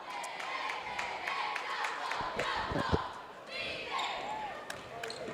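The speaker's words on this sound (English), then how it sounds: "we got a great crowd here tonight too" Large crowd of 400 to 500 people murmuring in a high school boys basketball gym, with scattered claps, cheers, squeaks and ball bounces under a commentator's voice.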